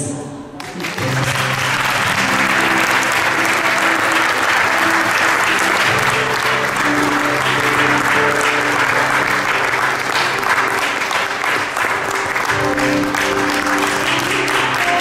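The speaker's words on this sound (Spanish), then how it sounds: "Fuerte aplauso." Loud, sustained applause from a large crowd at a Catholic community retreat, steady clapping filling the space with a faint tonal hum underneath.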